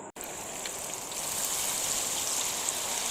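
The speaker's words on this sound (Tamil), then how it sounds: "இப்போ நான் மிக்ஸ் பண்ணி வச்ச சிக்கனை ஃப்ரை பண்ணி எடுத்துக்க போகிறேன்." Marinated chicken pieces fry in hot oil, giving a loud, continuous, dense sizzle and crackle that starts abruptly and holds steady from close by, without voices.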